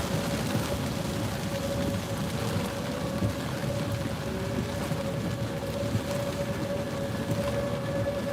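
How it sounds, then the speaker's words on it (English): A tornado warning siren wails steadily outdoors in Norman, Oklahoma, during a strong wind threat, a sustained tone held under loud rushing wind and rain noise in a storm, without speech. "Sirens are going here"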